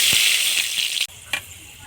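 Panch phoron spices dropped into hot mustard oil in a Bengali village kitchen, giving a loud continuous hissing sizzle that dips suddenly partway, then a short crackling burst.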